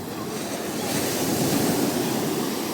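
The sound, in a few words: small ocean waves at Ingleses Sur beach, Florianópolis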